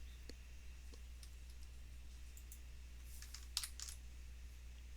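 Computer keyboard keys clicked in a short burst of typing for a Ctrl Shift B build shortcut, faint and close over a steady low hum with no voices.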